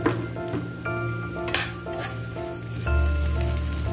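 Onion and garlic sizzle loudly in hot oil in a pan for chicken in coconut milk with squash, with crackling frying and several bursts of stirring, close and without talk.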